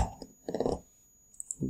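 A password is typed on a computer keyboard, heard as a few quiet clustered key clicks with short pauses between them, up close and with no talking.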